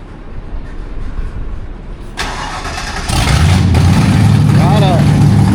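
An old vehicle's engine cranks and catches, settling into a loud rumbling idle, with voices speaking over the start.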